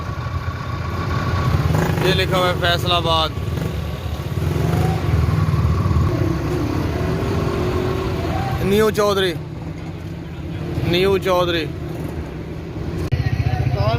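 A goods vehicle carrying goats rumbles steadily close by with a continuous low engine drone, while people talk over it and a few brief higher whining revs rise and fall.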